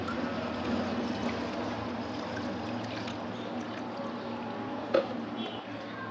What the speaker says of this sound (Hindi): अब हम दोबारा इसमें पानी डालेंगे।